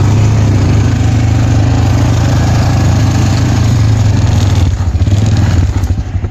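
A Honda Recon 250 ATV engine runs loud and close in reverse as the quad backs out on a trail, with a steady droning note that wavers slightly toward the end.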